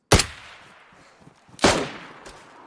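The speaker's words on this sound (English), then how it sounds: "He shot me." Video game gunshots: two sharp, loud cracks about one and a half seconds apart, each with a brief echoing tail, followed by a fainter pop.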